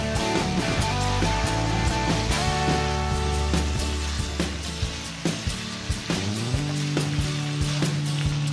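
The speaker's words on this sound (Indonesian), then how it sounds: "Oke, saatnya kita masukkan ayamnya yang sudah digoreng tadi. Tinggal diaduk-aduk aja ya hingga sampai merata." Fried chicken pieces get stirred into sautéed spices for green chili chicken, a loud continuous sizzle in the pan broken by repeated scraping and knocking of the spatula against the metal, close up with no talk.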